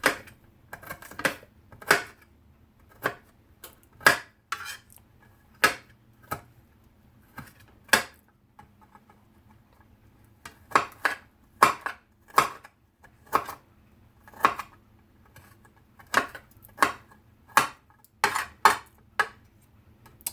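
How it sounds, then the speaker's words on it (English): Garlic being chopped with a knife on a cutting board for Southern-style collard greens, a run of sharp, irregular taps, sometimes quick pairs, sometimes spaced pauses, close and crisp over a quiet room. "we finish with chopping up this garlic"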